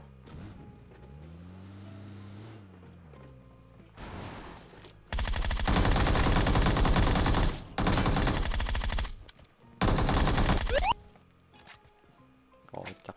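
Dense automatic gunfire in a shooter video game comes in three loud sustained bursts, each lasting a second or two, preceded by a vehicle engine drone.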